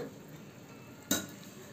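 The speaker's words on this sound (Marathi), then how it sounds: "आता आपण याच्यावर ताट ठेवू" Metal plate set as a lid over a pot of simmering drumstick curry lands with a single brief clank, close by, over a low steady cooking hiss.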